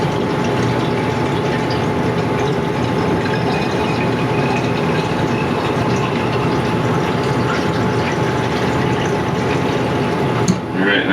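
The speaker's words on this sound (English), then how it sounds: "The light's back on as it's filling up the tank again." The pump of a LINX140T drinking water system fills its tank with a steady, loud mechanical hum and rushing liquid that holds constant throughout, ending with a brief sharp sound near the end.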